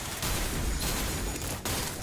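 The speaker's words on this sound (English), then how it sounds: "It's just gunfire." Rapid gunfire from the video game Limbus Company, a dense continuous burst of shots filling the whole stretch with no pauses, loud and close, with no voices over it.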